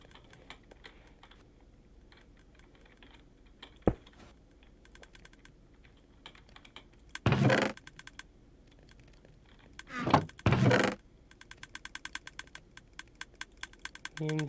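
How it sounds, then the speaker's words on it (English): Machinery clicking away in a block-building video game while it puts stone into chests, rapid soft ticks running throughout, with a few louder bursts of mechanical noise and a single sharp thunk. "You can hear it clicking away and putting the stone in the chests"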